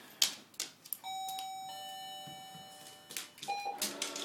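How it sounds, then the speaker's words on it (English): Doorbell pressed indoors during hearing-dog training, giving a clear electronic chime of ringing tones lasting a few seconds, with faint handling noises around it. "press the doorbell"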